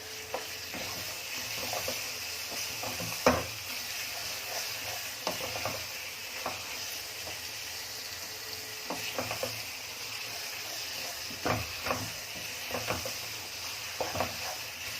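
Keema fries in an instant pot with a continuous even sizzle, while occasional scrapes and clicks of stirring break through at irregular intervals; no voices.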